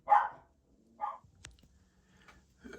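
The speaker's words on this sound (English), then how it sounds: "Now the dogs are barking with each other." Dogs bark back and forth in a quiet room, two sharp close barks followed by a softer third, separated by near silence and a small click.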